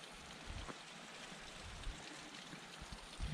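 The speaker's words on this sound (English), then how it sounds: "I can hear water rushing pretty hard." Rushing mountain stream water on a hike between Mount Monroe and Mount Washington, a steady, soft wash of flowing water with faint bumps of handling noise, heard alone.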